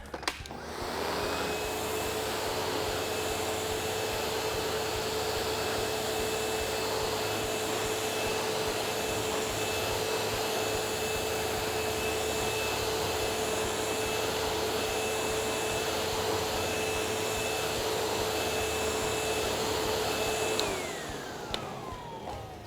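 Riccar Tandem Air 20th Anniversary vacuum cleaner deep cleaning pink sand from a black rug, a loud continuous motor whine with a steady tone running over twenty seconds, then dropping in pitch as it shuts off.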